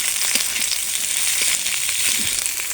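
Chopped carrots for egg chowmein frying in a pan, a dense, loud, continuous hissing sizzle heard up close with faint occasional stirring and no voices.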